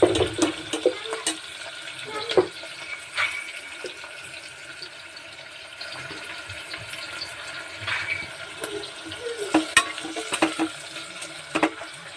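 Onions softening in a pan for vegetable biryani give a low, steady cooking hiss with scattered scrapes and clinks of stirring, fairly quiet throughout and without talk.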